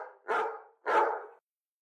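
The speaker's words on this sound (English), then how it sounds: "Bark. Selected, bark." iPhone Bark ringtone: two short, close dog barks a fraction of a second apart, clear and isolated against silence.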